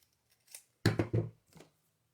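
Handheld paper punch working through cardstock for a Stampin' Up! birthday card, a few close, sharp crunching clicks in quick succession after a faint rustle, with no talk.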